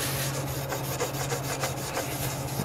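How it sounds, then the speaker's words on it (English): A mini bike cleaning brush scrubs over a bolted-in mount in a fabrication shop, giving quick repeated scratchy strokes in an uneven rhythm over a low steady hum. "let's do a little cleaning over here with this mini bike cleaning brush"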